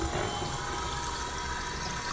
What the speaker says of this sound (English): Let's turn the hot water on